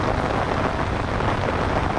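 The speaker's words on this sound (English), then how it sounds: "you can see it's pouring down really heavy, really heavy" Heavy rain pours down during a storm, a dense, steady hiss and patter that stays constant and close throughout, with no voices.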